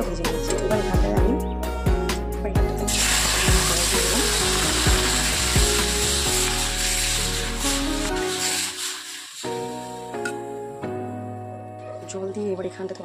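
Semolina frying in a pan, stirred to a light reddish colour before water is poured in. Steady broadband frying hiss runs under repeated scraping strokes, shifting partway through as the water goes in, with a tonal background layer throughout.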